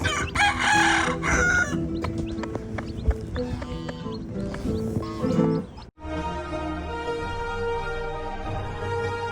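Farmyard chickens with newly hatched chicks. Clucking hens, a rooster's crowing and scattered high peeps fill the scene, mixed with other nearby animal and hoof-like clopping sounds.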